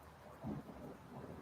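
Soft, steady rain falls while a low, muffled roll of thunder swells briefly in the distance, all faint and without voices.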